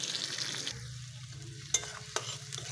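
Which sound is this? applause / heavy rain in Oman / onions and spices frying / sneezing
onions and spices frying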